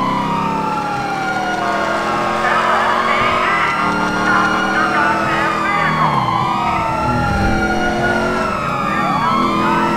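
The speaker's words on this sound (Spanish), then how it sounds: "Se ha robado una ambulancia." Loud wailing ambulance sirens from the GTA V LSPDFR game, several overlapping rising and falling tones sounding continuously over engine noise.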